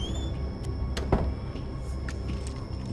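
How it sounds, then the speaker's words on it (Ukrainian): A door swings shut in The Walking Dead: Survival Instinct video game, giving one short, dull thud partway through over a steady low game ambience. "гадаю, варто зачинити оці от двері."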